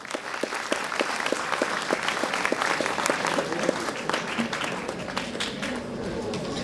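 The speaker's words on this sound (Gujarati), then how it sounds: "સફી મણિયાર સર માટે અગેન ફરીથી જોરદાર તાળીઓ" Sustained audience applause at a keynote session, dense clapping from a large crowd filling the whole stretch at steady loudness, with a few louder individual claps standing out near the front.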